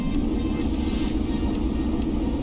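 A supercharged car engine roars steadily on a dyno in Car Mechanic Simulator 2021, a loud continuous low rumble with no pauses.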